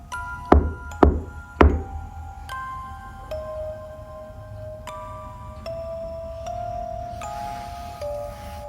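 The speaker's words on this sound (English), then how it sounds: "Do you hear the rhythm in the knock?" Knocking on a solid surface during a paranormal investigation: three loud, close, hollow knocks in quick succession, followed by lingering tonal ringing and faint room noise.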